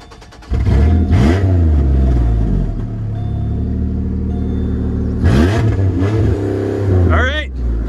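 A Pontiac G6 engine cranks and catches after a jump start, then revs in repeated rising bursts, loud and close, with people talking over it.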